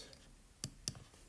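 Two sharp computer mouse clicks, close and distinct about a quarter second apart, over a quiet background with a voice talking.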